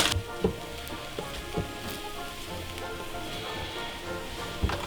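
Bread slices toasting in a pan with a little oil for a toast sandwich, a soft steady sizzle with scattered small pops and clicks, fairly quiet and close.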